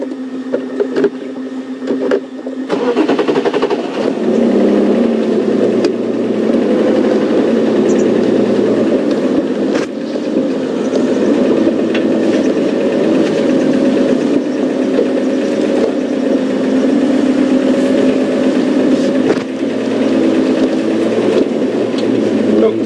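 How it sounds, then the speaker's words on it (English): A safari vehicle engine starts and then moves on with a loud, steady low rumble and drone close by, rising a little at times, with no talking. "Let me just move the vehicle so we can get a better spectrum of ages to look at"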